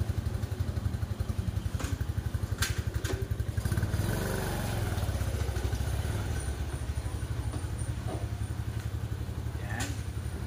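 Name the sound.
150cc ATV engine running, stock twin exhaust pipe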